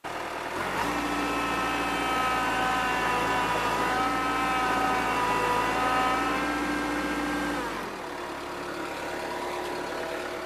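Kubota B3030 compact tractor engine running as it nudges a Massey Harris 30 backwards uphill, a loud, steady, close diesel drone that drops to a lower idle near the end.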